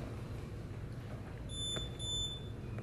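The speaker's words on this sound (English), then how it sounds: "You have the beep that tells them it's on" A police body camera sounds its activation beep as the officer double-presses its large button: two short, high electronic beeps in quick succession, moderately clear above a steady low background rumble.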